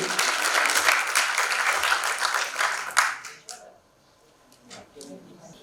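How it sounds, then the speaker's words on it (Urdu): Audience applause welcoming a research scholar presenting a paper at an Urdu seminar, dense and loud clapping for about three seconds before it cuts off, leaving a quiet room with faint scattered noises. "بہت زوردار تالیوں سے استقبال کیجیے"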